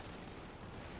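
Dense machine gun fire from a video game pours out in a continuous, loud, unbroken roar for about a second.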